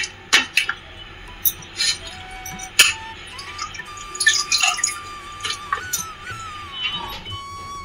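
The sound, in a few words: washing mutton pieces in water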